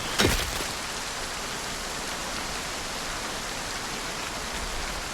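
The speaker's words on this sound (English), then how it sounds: "The rain is really, really loud." Heavy rain in a zombie video game, a loud, dense and steady hiss of downpour filling the whole span with no voices.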